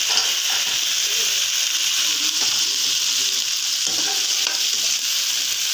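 Sliced snake gourd frying in a pan, a steady broad sizzle with occasional light stirring clatter, close and continuous with no talking.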